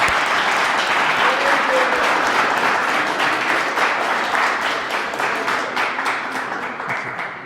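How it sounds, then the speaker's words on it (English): An audience at a December First Friday event gives a round of applause for urban planning students, a strong, dense patter of clapping that fades slightly toward the end, with a few voices mixed in. "why don't we give a round of applause to the students"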